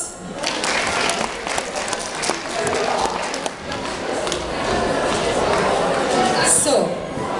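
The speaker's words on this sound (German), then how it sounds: "Applaus!" An audience claps through a round of a German party game, with dense, continuous applause that is loud and close and has some voices mixed into the crowd noise.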